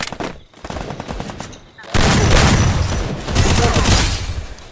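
Rapid gunfire from a shooter video game during a headshot, with a quieter burst of shots followed by a loud, dense stretch of continuous fire that runs to the end.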